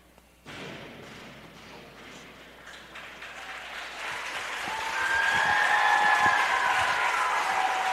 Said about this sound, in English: The crowd really enjoyed that one.